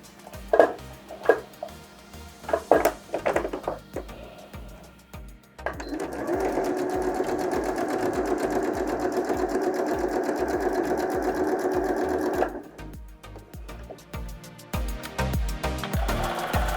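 A sewing machine stitches fabric for a double pad holder, starting with a few short backstitch bursts and then running in a steady, close, continuous whir for several seconds before stopping.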